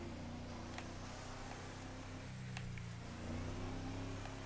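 A truck engine in a roleplay driving game revs and drones steadily, its low hum rising and shifting in pitch as it accelerates, fairly loud and continuous with faint clicks over it.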